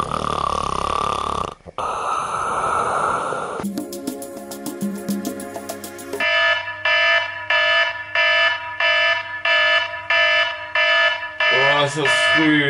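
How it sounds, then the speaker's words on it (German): An alarm clock ringing early in the morning, a loud repeating electronic beeping in regular bursts after a stretch of other noise and tones. "Ich musste mir so früh den Wecker stellen, weil ich jetzt einen Zahnarzttermin habe."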